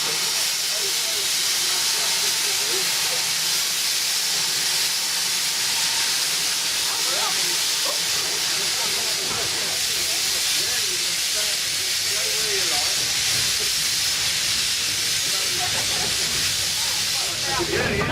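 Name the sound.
steam hissing from steam locomotive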